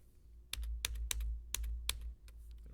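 Computer keyboard keys are pressed for shortcuts, about six to eight crisp, close clicks in uneven bursts over a low steady hum, with no talking.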